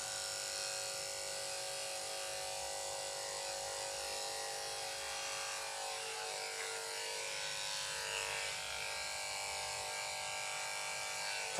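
Electric dog clippers shaving hair over a dog's ear flap, a steady close buzzing hum that runs continuously without voices.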